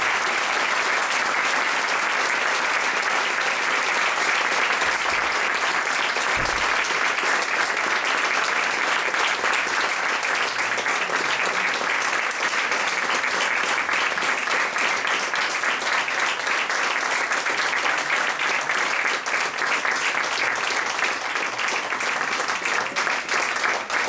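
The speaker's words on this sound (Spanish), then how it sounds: "vamos a darle un aplauso realmente muy agradecido por su presencia aquí en la Universidad de Veracruzana y de Ciencias a Juan Antonio Flores." A lecture audience at the Universidad Veracruzana breaks into sustained, even applause after an anthropology talk, dense clapping that continues steadily for over twenty seconds.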